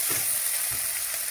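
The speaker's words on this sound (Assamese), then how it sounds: "এতিয়া সকলোখিনি মিক্স কৰি অলপ সময় ভাজিব লাগিব আৰু গোটা জিৰা শুকান জলকীয়া আৰু পিঁয়াজ আৰু তেজপাত" Onion, whole cumin, dried chili and bay leaf sizzle in hot oil in a pan for a cauliflower dish, a loud continuous crackling fry with soft stirring sounds.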